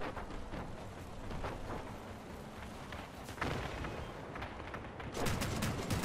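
Heavy artillery blasts from a dual-artillery spider-legged build in the vehicle combat game Crossout, sounding as repeated booming shots and explosions over a dense, loud battle din, with sharper impacts near the end.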